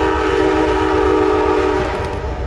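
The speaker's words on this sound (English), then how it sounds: "Train." A train rumbles past near a river with its horn sounding a long, loud, steady blast over the rolling rail noise, the horn dropping away near the end while the rumble continues.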